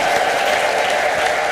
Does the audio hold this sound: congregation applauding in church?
yes